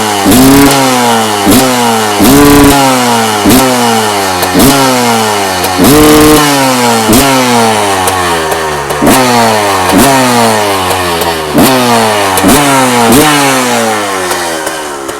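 A 1990 Honda CR250R two-stroke motocross engine revs hard again and again, loud and close, its crisp sawing note rising and falling in repeated blips with no talk over it.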